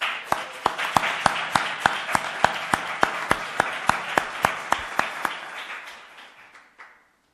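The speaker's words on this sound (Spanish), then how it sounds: "le damos un aplauso para que se sienta querido" An audience welcomes a speaker at a talk with applause that falls into steady, rhythmic unison claps over a hissing crowd bed, then tapers off and fades out near the end.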